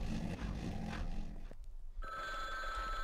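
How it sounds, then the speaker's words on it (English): A telephone rings in the horror video game Bloodwash, a clear electronic ring with steady harmonic tones starting partway through and continuing over a dense, murky game background. "The phone is ringing!"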